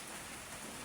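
Steady rain falls outside at night, a dense, even hiss close and constant across the short stretch, with no voices.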